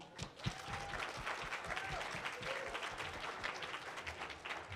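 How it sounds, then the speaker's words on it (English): An audience at a 20th anniversary celebration applauds with dense, steady clapping that holds evenly throughout. The sound is fairly faint and distant, and brief voices come through faintly beneath it. "Special applause, please."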